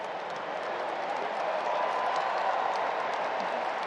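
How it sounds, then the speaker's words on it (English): Stadium crowd at the US Open tennis tournament erupting into sustained applause and cheering at match point, a dense continuous roar of clapping that swells slightly louder midway and holds. "The crowd erupting here and applause"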